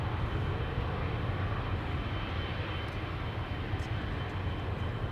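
An Emirates Boeing 777 jet departing Amsterdam Schiphol, a steady loud broadband engine roar that holds constant throughout without pause, close by.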